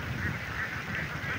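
A large flock of about 1,250 ducks herded in a rice paddy keeps up a dense, continuous chorus of overlapping quacks and honks, close and fairly loud.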